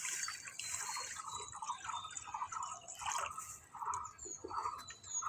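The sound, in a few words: pouring water onto fried mung dal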